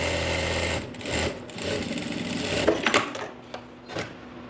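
A sewing machine chain-stitches ladies' pants in short rapid whirring runs, close and fairly loud, breaking off into brief stops and a few clicks toward the end, with no voices.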